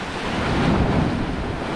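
Storm surf and strong wind batter a shoreline in the Philippines during Tropical Storm Dante, a loud, dense roar of breaking waves mixed with gusty wind buffeting the microphone, continuous and close with no talking.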